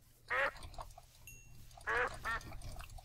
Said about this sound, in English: Kill some ducks on the way